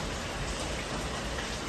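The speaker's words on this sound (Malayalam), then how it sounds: "ഇവിടെ നല്ല മഴയാണ് കേട്ടോ." Heavy evening rain falls outside in a dense, steady hiss with no break, loud and even throughout, and no one speaks.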